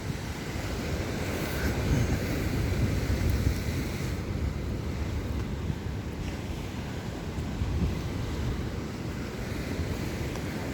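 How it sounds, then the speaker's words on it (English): Mellow ocean surf along the north-side boardwalk near the Arecibo Water Park, a steady rushing wash of waves mixed with wind buffeting the microphone, continuous and fairly loud. "Pretty mellow waves today, actually."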